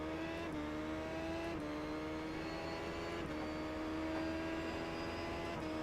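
A race car engine runs flat out down a long straightaway on an old runway circuit, a steady high droning whine with small repeated dips in pitch as it bounces off the rev limiter. It is heard continuously from onboard, moderately loud, with no talk.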